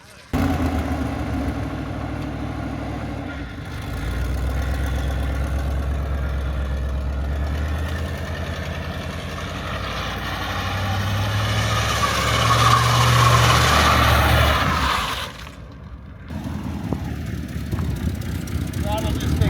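A Chevrolet Nova engine idles roughly and loudly up close, its low rumble steady for about fifteen seconds before cutting out abruptly, with a brief restart-like murmur afterward; the car is old and running hot with a bad throttle.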